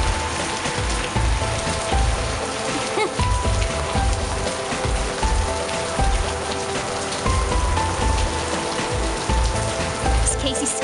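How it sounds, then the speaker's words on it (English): Heavy rain mixed with hail drums steadily on a roof during a thunderstorm downpour, a dense loud patter with irregular harder thumps throughout. "did the hail banging on the roof scare her?"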